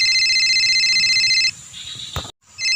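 A mobile phone ringtone trills loudly in a repeating electronic pattern, then breaks off into brief quieter tones and a short silence before it starts again.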